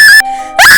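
A woman screams in terror on the thirteenth stair of a haunted mansion. Two loud, piercing, high-pitched cries are split by a short, quieter stretch of thin, steady tone.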